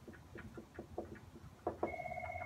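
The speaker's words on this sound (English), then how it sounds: "let's answer the phone" A telephone rings with a steady electronic tone that starts near the end, after a faint run of ticking taps over low room hiss.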